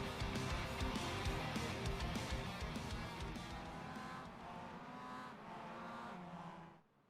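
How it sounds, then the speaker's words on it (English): In the iRacing sim at the St. Petersburg street circuit, ahead of a Mazda Cup race, the official pace car drives around the track, a steady loud engine drone with tire noise that fades out at the end. "iRacing official pace car making its way around the circuit here for another 20-minute race"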